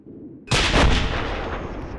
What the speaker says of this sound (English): Clear back blast. I can just fire straight at him here, right?